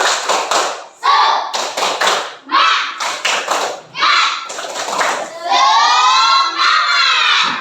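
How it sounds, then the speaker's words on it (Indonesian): Children in a classroom do a rhythmic spirit clap, with loud, close bursts of clapping in a patterned beat broken by shouted chanting in unison, ending in a long group shout. "kita tepuk semangat"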